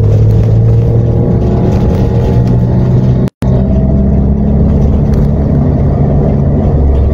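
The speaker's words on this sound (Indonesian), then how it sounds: "Ada motor tengah terus ya." A motorcycle engine drones steadily on a busy street, holding a close, loud hum with a short cut-out midway before it carries on.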